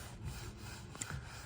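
Someone hand-sands a green oak timber frame outdoors, a soft, steady abrasive rubbing with a faint rasping stroke and a few small knocks near the end, close and quiet.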